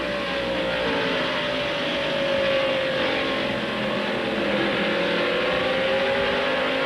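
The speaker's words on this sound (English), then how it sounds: "as he accelerates down the straightaway up to 119 miles an hour" A 1995 NASCAR Winston Cup stock car at North Wilkesboro Speedway accelerates down the straightaway, its engine a loud, steady roar that rises slightly in pitch throughout, with no talk over it.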